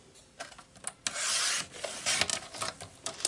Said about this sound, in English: So I'm going to cut my strips off.